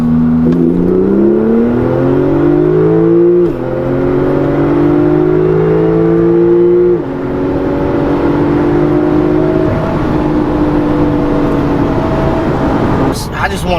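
A Porsche 911 Turbo S accelerates hard: engine tones climb steadily through several gears, each shift cutting the pitch back before it rises again, loud and close throughout with a brief clatter at the end.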